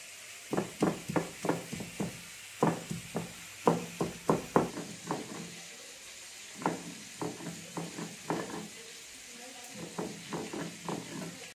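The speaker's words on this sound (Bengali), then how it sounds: "আর পেঁয়াজগুলো আমি একটু থেতো করে নেবো, কুচাবো না, আমি থেতো করে নেবো পেঁয়াজটাকে" Onions being crushed for a curry, heard as a series of firm, regular pounding strokes that come in clusters with short pauses between them, moderately close.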